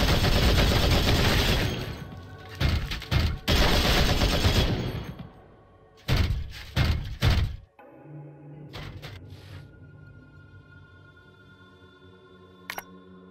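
Bursts of automatic gunfire from the video game Warhammer 40K Regicide rattle loudly in several rapid volleys, separated by short gaps, then give way to quieter mechanical clicks and a low hum.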